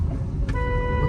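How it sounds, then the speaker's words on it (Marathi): A car horn gives a brief toot at a pedestrian on a busy road, a short tonal blast over constant engine and traffic rumble. "काकूला मी हॉर्न देतोय"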